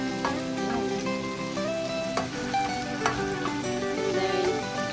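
Vegetables and sausage for spaghetti sauce fry in a pan with a continuous, even sizzle, steady and close, broken by occasional light clicks of stirring.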